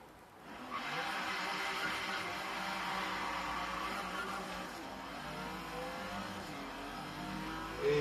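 A race car in Forza Horizon 3 revs and accelerates, its engine rising into a sustained mid-pitched whine that holds steady for several seconds at moderate volume, ending with a brief louder burst.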